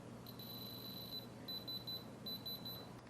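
A high electronic beep sounds repeatedly, first as one long tone and then as quick pulses, faint over a low background hum.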